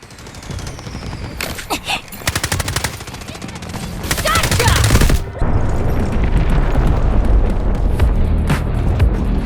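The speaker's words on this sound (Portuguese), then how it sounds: "Artillery barrage incoming." An artillery barrage pounds a battlefield in the shooter game Delta Force Mobile, with rapid crackling bursts and booming impacts building into a continuous, dense, loud roar of explosions and gunfire.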